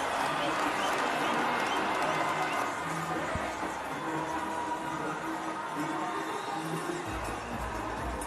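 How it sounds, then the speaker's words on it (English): A packed cricket crowd cheers and roars after a batsman strikes three sixes, a dense, continuous wash of distant stadium noise that holds steady throughout. "Listen to the crowd."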